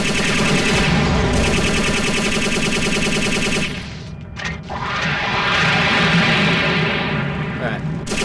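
Loud, continuous machine gun fire aimed at aircraft in the Robotech Battlecry video game roars in a dense stream, pauses briefly around the middle, then resumes at full intensity.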